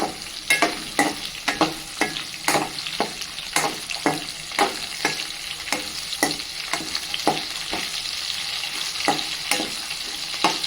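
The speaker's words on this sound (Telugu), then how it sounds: "ఇప్పుడు దీంట్లో మళ్ళీ మనం ఒక కొంచెం ఒక నాలుగైదు మెంతులు జీలకర్ర వేసుకుందాం" Fenugreek seeds and cumin crackle and sizzle in hot oil for a Telugu-style gongura stalk pounded chutney, with a steady hiss broken by sharp, regular scraping strokes of a stirring spoon, close and moderately loud with no talk.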